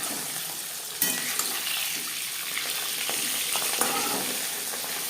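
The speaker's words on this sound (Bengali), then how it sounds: "চার পাঁচ চামচ রিফাইন্ড অয়েল গরম করে নেওয়ার পর দিয়ে দেবো মাছ পাবদা মাছ ফোটে একটু সাবধানে ভাজতে হবে" Pabda fish frying in hot refined oil, a dense close sizzle with crackling pops and a sudden sharp burst of spitting early on, no one talking.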